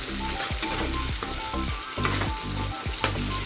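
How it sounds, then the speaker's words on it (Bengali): Fish curry frying in a pan, a loud steady sizzle with bursts of spattering and scraping stirs recurring every half second or so, close and unbroken with no voices. "মাছের ঝোড়া বসিয়ে দিয়েছি।"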